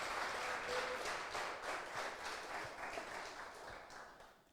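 A church congregation applauds steadily, dense clapping at moderate volume that gradually fades toward the end.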